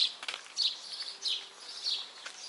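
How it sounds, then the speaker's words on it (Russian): Small birds chirp and tweet near the sea in a hot summer setting, a few faint, high, repeated calls in short bursts over a quiet background, with no talk. "так хорошо птички поют"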